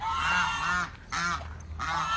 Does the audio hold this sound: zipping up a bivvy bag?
no